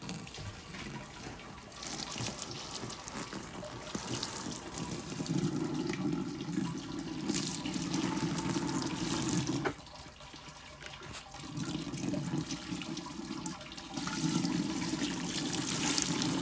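During home brewing of a light lager, sparge water drains through the grain bed as a steady rushing, trickling flow that swells and drops back, pausing briefly midway before resuming, with no voices.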